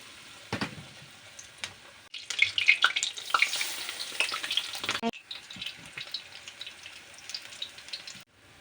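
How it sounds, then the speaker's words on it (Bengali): Capsicum chops sizzle and crackle as they fry in hot oil, a bright, busy crackling that swells after a quiet start and carries on with brief pauses. "এখন এটা তেলের মধ্যে দিয়ে দেবো"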